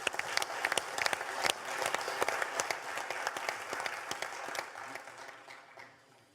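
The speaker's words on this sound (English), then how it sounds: "Let us welcome everybody with a big applause." Audience applause welcoming guests at a forum in Wroclaw, with a steady burst of clapping from a large room that holds for several seconds and then thins and fades toward the end.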